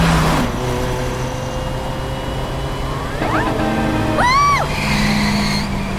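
A cartoon vehicle from the Car City World game app speeds along under an engine drone, with rising whooshing and squealing tones near the end and background music throughout.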